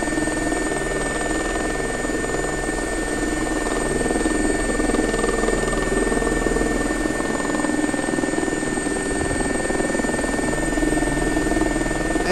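A UK air ambulance helicopter in the X-Plane 11 flight simulator, giving a steady, loud, continuous rotor and turbine drone with a constant whine throughout and no voices.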